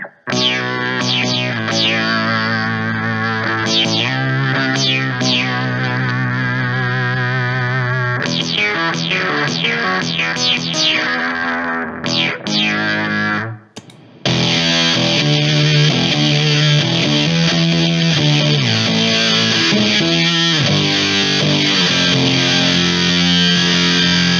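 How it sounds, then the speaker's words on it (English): A Digitech Bass Synth Wah pedal on synth setting 4, played with guitar and no distortion, gives loud, continuous buzzy synth tones with sweeping filtered notes and a short gap just before the 14-second mark. "So 4 is another synth,"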